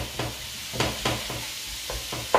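A wooden spoon scrapes and turns sizzling aubergine in a frying pan, with about six soft stirring strokes in an uneven rhythm over a steady low fry, close and fairly quiet.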